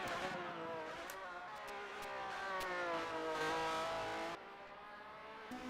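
Race cars in a sim racing game of the 1997 Bathurst 1000 at the start-finish line, steady loud engine drone with shifting harmonic whine, fading slightly near the end.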